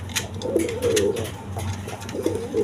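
Healthy pigeons kept for breeding coo in soft, repeated low throaty phrases, several birds overlapping close by over a steady background murmur.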